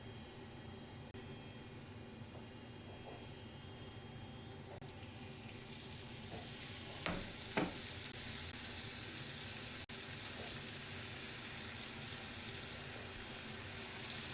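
A steady hiss of food frying in a pan runs throughout, close and even, with a couple of brief clicks partway through.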